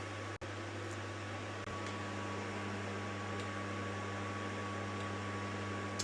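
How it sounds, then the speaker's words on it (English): Water heats in an electric kettle inside a camper van, giving a steady, even rushing hum with a constant mechanical drone underneath and a couple of faint clicks. "you can really hear that water starting to move around now in the kettle"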